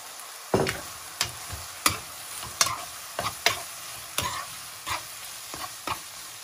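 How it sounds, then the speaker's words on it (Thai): Pork with holy basil being stir-fried in a pan, a string of sharp spatula scrapes and knocks at irregular intervals over a low background sizzle, close and fairly loud, with no voices. "ผัดให้มันเข้ากันจักหน่อย"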